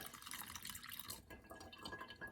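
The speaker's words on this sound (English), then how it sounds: "one thing I do is a way not to spill it, is to pour it from this back corner" Celery juice pours from the back corner of a juicer container into a vessel, a soft splashing trickle of liquid that changes tone as the pour settles, close and fairly quiet.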